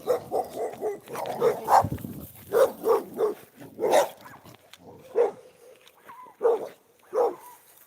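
A dog barks in a run of sharp, repeated woofs and yips at close range, some in quick bursts and others spaced apart, with short pauses between.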